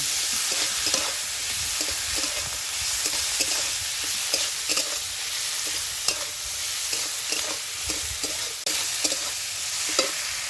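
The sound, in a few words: ginger, garlic, tomato and green chili being stir-fried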